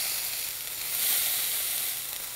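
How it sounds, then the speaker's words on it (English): Pork patties for bun cha searing in a pan, a loud, steady, close sizzle that holds throughout with no talking. "So these have been searing away for about 5-6 minutes"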